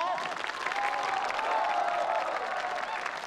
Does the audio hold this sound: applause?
yes